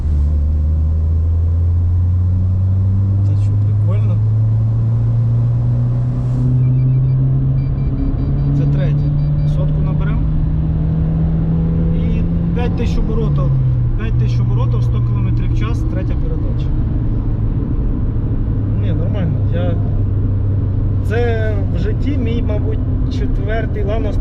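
A tuned Daewoo Lanos engine hums steadily from inside the car at around 2000 rpm and 45 km/h. Its pitch rises, then drops at a gear change, while someone talks throughout.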